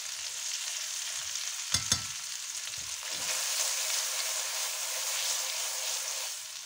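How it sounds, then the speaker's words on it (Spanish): Swedish meatballs cook in butter in a pan with a bright, steady sizzle, close by, interrupted by a couple of brief knocks and scrapes as they are moved around. "la cocinamos un poquito con la mantequilla que nos queda por aquí"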